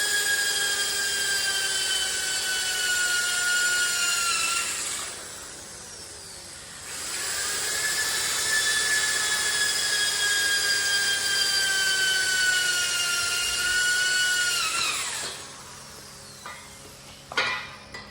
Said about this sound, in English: I'm drilling the holes for the spot weld so we can weld this.